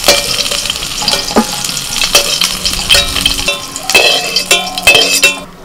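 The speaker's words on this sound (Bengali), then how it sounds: "তেলের মধ্যে ফোড়নে দিচ্ছি তেজপাতা, শুকনো লঙ্কা, গোটা জিরে" Bay leaves, dried red chillies and whole cumin sizzle in hot mustard oil in a kadai, with an uneven crackle. Metal spoon scrapes and clinks from stirring come through close by, and no one talks.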